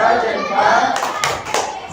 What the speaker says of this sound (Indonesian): Oke, kita kasih tepuk jempol untuk kelompok 2.